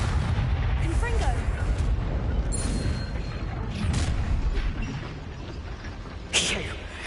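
Confringo fire spell explosions in Hogwarts Legacy on PS4 make a dense, continuous booming rumble with one sharp burst near the end, with voices in the game.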